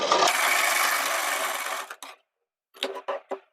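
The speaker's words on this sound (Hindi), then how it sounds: "यहाँ पर हम इस सिलाई को लगा लेते हैं" A sewing machine stitching a kurti runs in one continuous whirring burst for about two seconds, then stops, followed by a few short clattering bursts of fabric handling and machine noise nearby.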